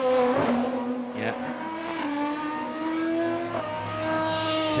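A race car braking through Turn 10 during qualifying at the 2017 Petit Le Mans, its engine note dropping and rising with downshifts, loud and close, over a steady roar of other engine noise.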